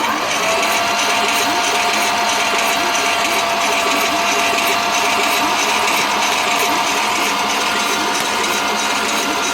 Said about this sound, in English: Getting some fuel. Yeah, it's filling up. Alright. Well, at least the pump works